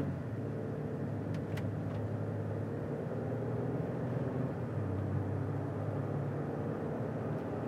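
Interior road noise of a 2018 Lincoln Navigator limousine on the move, a low steady rumble and hum that stays even and fairly quiet throughout, with a few faint light ticks.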